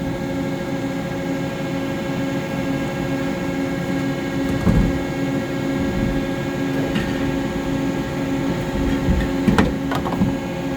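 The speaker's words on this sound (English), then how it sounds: "The part is going to eject it because it has an ejector in the sub spindle." A Mori Seiki SL-154SY CNC lathe ejects a finished part from its sub spindle: a steady machine drone with a few brief clunks and knocks standing out near the middle and end.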